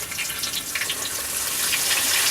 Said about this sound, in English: Take your time because it's bubbling up fast